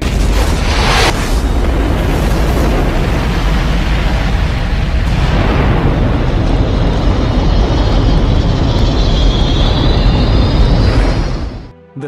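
The Chandrayaan-3 rocket launch ignites into a deep, continuous thundering roar that stays loud and dense throughout, then cuts away abruptly at the end.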